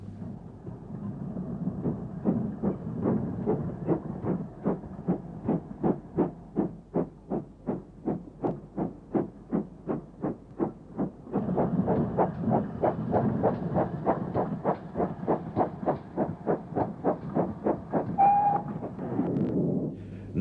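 British 2800 class steam locomotive hauling a southbound freight train, its exhaust beating out a loud, regular chuff rhythm throughout, with a short high whistle-like tone near the end.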